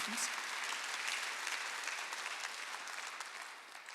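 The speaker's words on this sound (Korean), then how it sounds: "박수 한번 하세요." Church congregation clapping together at a Thanksgiving Sunday worship service, a dense, steady wash of applause filling the hall for several seconds before easing slightly at the end.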